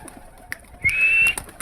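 A pigeon in a farm pigeon house that is covered with mosquito netting gives a single short, close coo, surrounded by a few light clicks and rustles.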